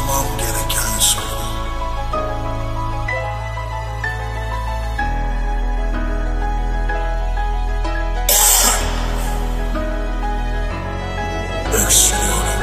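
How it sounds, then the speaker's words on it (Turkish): Harsh coughing bursts from a person reciting a Turkish poem, in a few separate fits near the start, middle and end, loud over steady background music with no speech. "Öksürüyorum."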